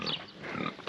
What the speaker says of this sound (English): we still got to figure out if a pig actually goes wee, wee, wee